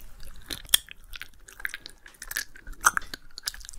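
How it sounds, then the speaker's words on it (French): Soft, close-up wet mouth clicks and smacks come in quick irregular bursts, with no talking. "Il se peut que tu détestes les bruits de bouche, comme ceci."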